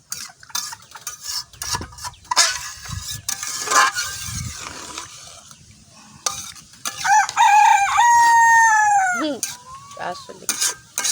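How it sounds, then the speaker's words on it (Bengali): A rooster crows loudly and close by in a village kitchen where a desi chicken and pointed gourd curry is being cooked, its drawn-out call rising and falling over light clattering and stirring noises. "মোরগ মাঝে মাঝে মিউজিকের সুর দিচ্ছে ওর কণ্ঠে"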